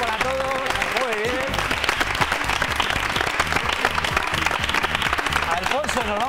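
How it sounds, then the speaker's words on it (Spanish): Studio audience applauding on a Spanish TV magazine show, steady dense clapping mixed with loud background music and some voices throughout. "un aplauso para todos"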